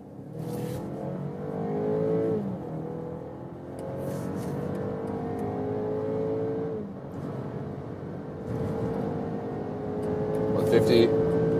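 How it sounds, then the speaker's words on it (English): A luxury SUV in sport mode accelerates hard at high speed on the German Autobahn, its engine note climbing steadily through gear changes under loud wind and road roar, with someone talking over it. "I'm driving at high speed on the German Autobahn. Sport mode and S shifting mode from 50 kilometers an hour."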